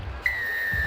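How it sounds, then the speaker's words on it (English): A referee's whistle starts a Major League Rugby Championship match with a single sharp, steady high blast that holds for most of a second over low crowd rumble. "it all starts with this whistle"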